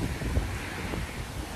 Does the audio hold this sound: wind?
yes